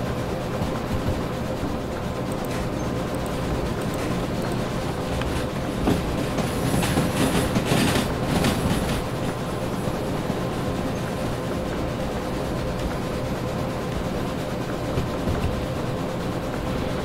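Locomotive from the train simulator game Derail Valley rolling steadily along rails, a continuous rumble with faint clickety-clack of wheels and a brief brighter hiss midway, no talking.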